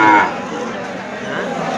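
An Aria breed cow at a cattle market gives a single close, loud moo that fades into a lower drawn-out tail.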